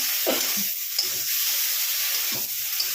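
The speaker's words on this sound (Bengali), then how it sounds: "আঁচটা একটু বাড়িয়ে দিলাম, দিয়ে এটাকে আমি ভালো করে ভেজে নেব।" Okra (bhindi) fried in a pan over high heat with masala and fenugreek, giving a steady broadband sizzle with several short scraping stirs of a spatula, close and alone without talk.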